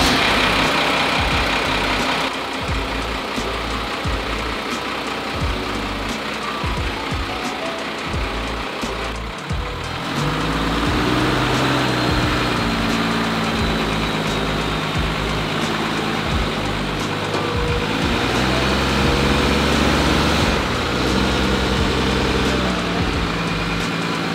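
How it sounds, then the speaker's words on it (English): A Bullnose Ford dually truck's 12-valve Cummins diesel idles steadily up close, a loud, continuous low rumble with no talk. "We're gonna go ahead and start it up, put it on the rollback,"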